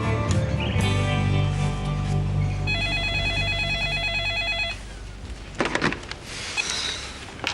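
A telephone rings in a house, a bright repeating electronic trill in close bursts that stop abruptly, followed by quieter clatter and handling noises.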